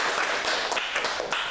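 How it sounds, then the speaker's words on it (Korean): Audience applause at the close of a lecture in Busan, a dense wash of many hands clapping continuously through the short moment, moderately loud and even. "오늘 뭐 강의하신 우리 최상기 우리 대표님께 한 번 더 박수 부탁드리겠습니다"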